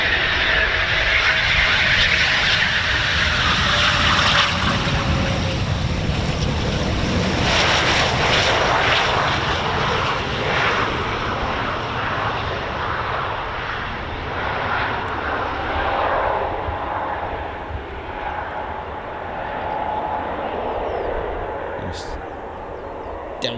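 A Eurofighter Typhoon FGR4 sweeps past at an air show. Its loud, rushing jet roar swells and then slowly fades as it draws away, with a shifting whine running through the noise and muffled crowd voices underneath.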